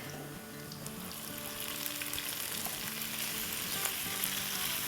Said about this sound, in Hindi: और अब इसकी भुनाई करेंगे, तो तकरीबन 2 मिनट के आसपास इसे भून लेंगे प्याज़ों के साथ